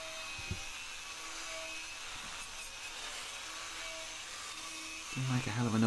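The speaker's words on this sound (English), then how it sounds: "Make a hell of a noise, these old grinders." An old grinder removing rust from horseshoes, giving a steady, harsh whirring grind at moderate loudness with brief knocks, then a rising, tonal whine as the tool is worked harder at the end.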